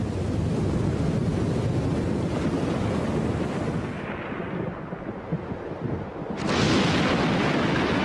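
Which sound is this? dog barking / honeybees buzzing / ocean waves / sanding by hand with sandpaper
ocean waves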